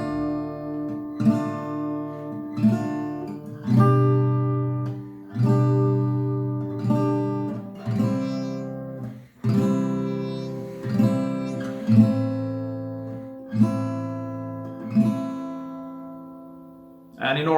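Slow acoustic guitar downstrokes ring out one at a time, each chord sustaining and decaying before the next strum in an uneven down-pause-down pattern.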